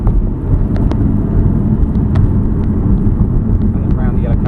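A 2013 Aston Martin V8 car accelerating on a track, a loud, steady engine roar and rumble held throughout, heard from inside the car.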